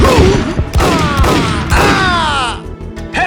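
Gunfire sound effects from the video game Max Payne 1 crack out in dense, loud bursts and booming shots, overlapping into a rapid fusillade with ringing tails.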